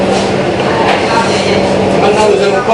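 A whisk beats egg yolks and sugar for crème brûlée in a small saucepan, a fast, even run of metallic clicks and scrapes that stays close and fairly loud throughout.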